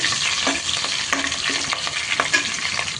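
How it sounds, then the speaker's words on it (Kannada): Twelve green chilies fry in hot oil with mustard seeds, cumin and curry leaves for a millet khichdi, giving a loud, close, steady sizzle broken by the scrape and clink of stirring. "ಹನ್ನೆರಡು ಹಸಿಮೆಣಸಿಕಾಯಿ ತೊಗೊಂಡಿದ್ದೀನಿ ಅದು ನೀಟಾಗಿ ಫ್ರೈ ಮಾಡ್ಕೋಬೇಕು"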